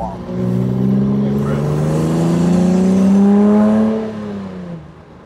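Jannarelly Design 1 race car driving through town, its engine rising steadily in pitch as it accelerates hard, loud and close for several seconds before easing off at the end.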